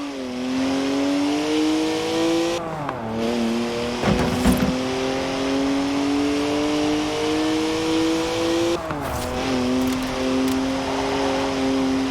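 A BMW in the racing game Forza Horizon 4 holds a loud, continuous engine drone, shifting pitch with two clear gear-change dips and a brief tire squeal, heard alone without talk.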